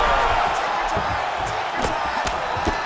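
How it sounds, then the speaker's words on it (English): Arena crowd in the video game EA Sports UFC 5 murmuring and roaring as fighters trade strikes, a constant loud crowd bed with several sharp thumps of landed blows popping through. "you hear the crowd react every time they come together"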